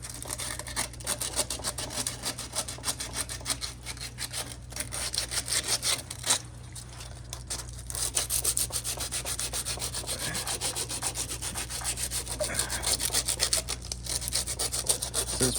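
Hand sanding the edge of a part with sandpaper while fitting an electric water heater, a steady close scraping rub that continues without pause.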